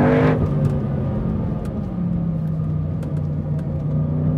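A BMW 4.4-litre V8 in a BMW Z4 restomod rumbles loudly at a steady idle through a very loud, deep, throaty aftermarket exhaust, with faint higher whirring on top.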